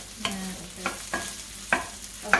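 Onions sauteing in a pan for fish soup, a quiet sizzle broken by several sharp stirring scrapes spaced about half a second apart, with no talking.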